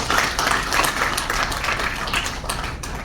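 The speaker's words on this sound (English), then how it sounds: "A big round of applause for them." A seminar audience claps in a dense, steady round of applause that lasts about three seconds, close and loud with no talking over it.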